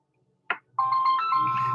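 A phone ringtone starts after a short click, playing a bright, sustained electronic melody close by that continues steadily to the end.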